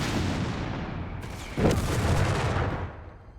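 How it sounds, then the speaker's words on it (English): Heavy battlefield bombardment from an M3 half-track in the Company of Heroes 3 video game, a dense rumble of gunfire with a sharp, loud boom about midway that then tails off gradually. "we got the M3 half-track there bombarding the assault grenadiers in the center"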